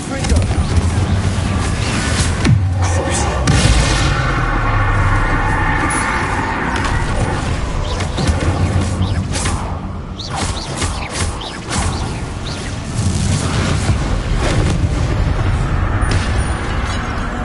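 Confringo spell explosions in Hogwarts Legacy, dense rumbling blasts and splintering crashes over continuous battle noise, with some voices mixed in.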